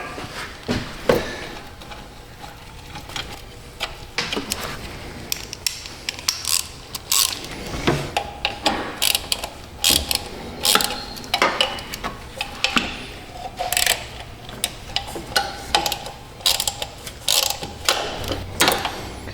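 A hand ratchet with a 10 mm socket tightens a bolt on a Town and Country minivan, giving quick bursts of close, sharp clicking separated by short pauses, with no talking.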